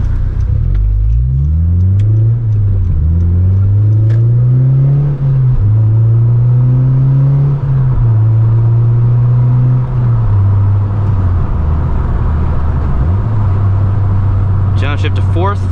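A 9th-generation Honda Civic Si on its stock exhaust accelerates through the gears, a loud, close engine drone that climbs in pitch, drops at each shift and climbs again, with someone talking over it.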